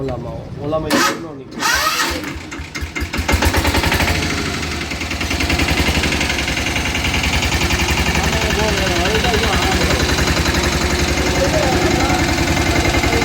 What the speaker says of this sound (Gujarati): હવે ટ્રેક્ટરનો અવાજ સાંભળો